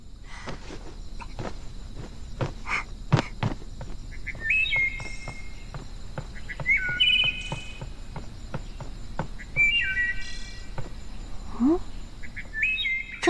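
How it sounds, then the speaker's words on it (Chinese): Repeated high chirping bird calls at night, several short bright phrases scattered over a soft bed of insect and cricket noise, with faint rustling steps in between. "这大晚上哪来的鸟鸣声啊？"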